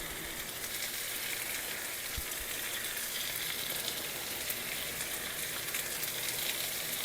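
Food sizzles and simmers in a pan, a soft, even, crackling hiss that holds steady without a break, close but fairly quiet, with no one talking.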